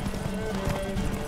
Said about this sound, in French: mon cheval fait cataclope